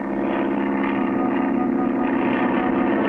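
A small propeller airplane engine drones steadily in an old cartoon, a loud, even buzzing hum that holds for a few seconds with no break.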